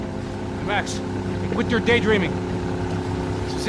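A motorboat engine in the Max Payne 3 video game runs as a steady low drone throughout, while a voice speaks briefly over it.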